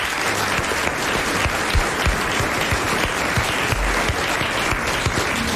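Studio audience applause for pianist Jacques Lesage on a 1990 French television talk show, steady dense clapping at even loudness throughout, with no talking over it.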